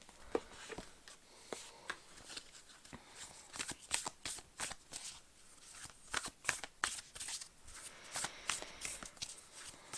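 Moonology tarot cards being shuffled by hand for a reading: soft, crisp riffling and slapping bursts in irregular bunches, close and fairly quiet, with no talking.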